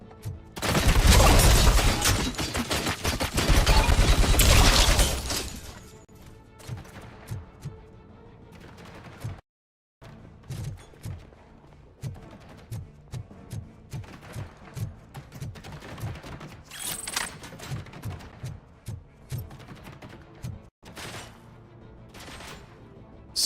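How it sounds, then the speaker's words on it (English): Heavy machine gun fire in a video game: loud, dense sustained bursts at first, then a string of shorter rapid volleys and sharp impacts with brief gaps between them. "Heavy machine gun."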